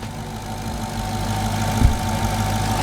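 A Dodge Challenger Hellcat Redeye engine idles steadily with a deep, low, lumpy rumble, one brief louder thump near the end, and no voices.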